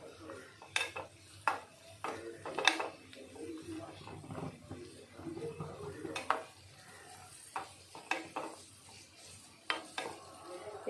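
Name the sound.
cashews and raisins being fried and stirred in a pan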